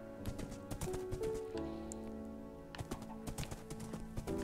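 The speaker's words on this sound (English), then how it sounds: "we can change the horse's name to Jax." Horse in the Minecraft video game, rhythmic hoof clip-clops stepping steadily with a short snort or whinny, close and moderately loud over a faint steady background tone.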